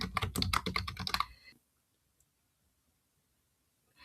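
Fast, close clicking of keys on a computer keyboard for about a second and a half, then near silence with one faint tap.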